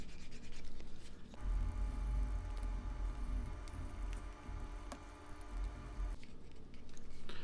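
Sandpaper rubbed against the corners of a small leather card wallet, a steady close scratchy rasp lasting several seconds before stopping, with quieter handling noise around it.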